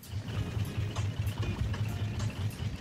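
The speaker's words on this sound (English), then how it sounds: "Proper functioning engines should sound like this." Engine on a raft in the survival video game Raft, running with a steady low rhythmic chugging pulse under a hissy, airy background, continuous and moderately quiet.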